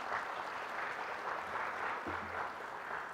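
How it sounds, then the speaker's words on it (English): Audience applause at a Binghamton University Alumni Association special recognition award ceremony, a steady wash of clapping from a large crowd that holds evenly throughout without any speech. "okay, you can clap"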